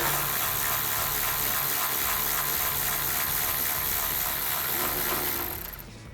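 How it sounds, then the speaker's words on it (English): Hand ratchet with an 8mm socket loosening a bolt during an air intake install on a Ford Bronco, clicking in a steady, close, continuous mechanical ratcheting that stops abruptly near the end. "So now I'm gonna take my 8mm on my ratchet,"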